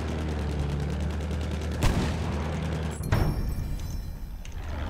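Machine-gun fire from a bomber's rear gunner rattles in the Battlefield 1 video game over the Heligoland Bight, with bursts of shots and sharp impacts cutting through a constant loud engine drone.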